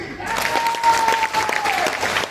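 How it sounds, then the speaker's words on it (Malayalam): Applause fills a hotel hall during a realtors' meeting, a dense crowd clapping steadily and fairly loudly, with a faint tone and a voice briefly audible underneath. "സൂപ്പറാണ്, നല്ലൊരു കൈയടി."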